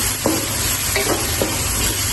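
A spoon scrapes and stirs pangas fish biryani with yogurt in a hot pan, a loud, continuous sizzle with a few soft scraping strokes.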